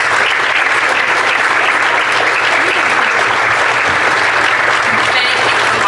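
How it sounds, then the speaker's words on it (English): Steady, sustained applause from a banquet audience at a school district Teacher of the Year dinner, dense and even for the full six seconds, with a faint hum beneath. "Please give them a round of applause."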